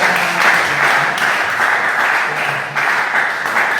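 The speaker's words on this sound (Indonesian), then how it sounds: "Ya, tepuk tangan dong" A church congregation applauds during a New Year thanksgiving service, producing a steady wash of many hands clapping together. It holds at an even level throughout, with a faint voice underneath.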